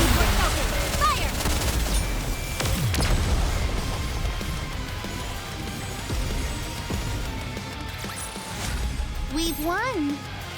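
Gunfire in the NIKKE video game: a dense, sustained barrage of shots and booms under game effects, with a voice speaking over the battle noise.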